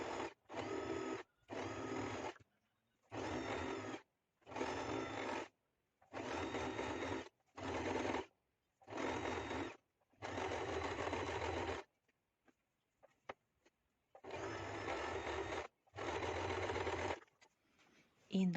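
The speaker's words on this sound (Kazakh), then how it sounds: "Одан кейін мына жерден бұлай тігіс жүргіземіз." A sewing machine stitches a seam in fabric while a headband is made, running in about a dozen short, loud bursts separated by brief pauses, with a longer quiet gap near the end.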